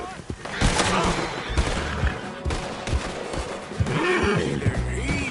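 Gunfire rings out in Red Dead Redemption II amid horse whinnies and hoofbeats, sharp shots scattered across a busy, loud mix with voices talking over the action.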